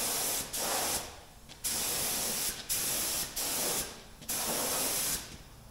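Paint sprays onto a truck in repeated hissing bursts, about six passes of steady spray, each cutting off sharply with short quiet gaps between, close and fairly loud.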